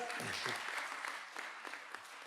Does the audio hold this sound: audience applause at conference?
yes